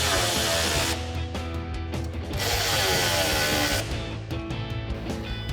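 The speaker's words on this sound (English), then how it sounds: "we're going to grab our 13 millimeter socket on our ratchet and tighten all these down" A ratchet with a 13 mm socket tightens step bar bracket bolts on a 2024-2025 Toyota Tacoma, giving close repeated clicking and metallic ratcheting bursts over steady background noise.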